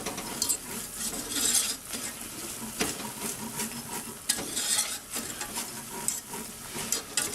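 A flour roux for turkey gravy cooks in a pan, its steady sizzle broken by repeated scraping stir strokes that come close and fairly loud throughout, with no talking.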